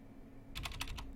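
A short burst of computer keyboard typing while a password is entered, about six crisp, evenly spaced keystrokes close by with no talking.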